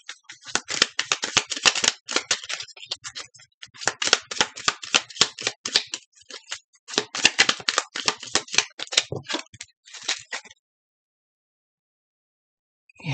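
Tarot cards are shuffled close up in crackling, riffling bursts with short pauses between them. The shuffling runs for about ten seconds and then stops, with no voice over it.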